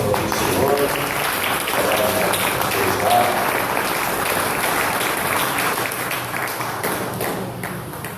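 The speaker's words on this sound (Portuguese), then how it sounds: "Vamos aplaudir o Senhor." A church congregation applauds together at a worship service, with steady, dense clapping that fills the room for the whole stretch while voices carry faintly underneath.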